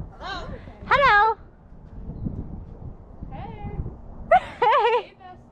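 A barn cat meows several times after a storm, loud and close, in short separate calls amid a person's voice and quiet background rustling.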